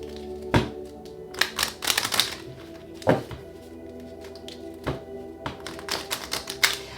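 Tarot cards shuffled and drawn during a reading: a few sharp taps and thunks of cards hitting a surface, with soft rustling between them, close and fairly quiet, no voice.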